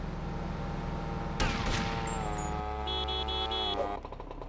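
Gunfire in a GTA V police chase: a short, sharp burst of shots, followed by tonal game sounds and a steady background rumble.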